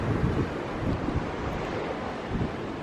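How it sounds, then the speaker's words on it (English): Strong, steady wind buffets the microphone on the open deck of the Norwegian Getaway cruise ship, a loud continuous roar with gusty low rumbles and no voices. "It's pretty windy."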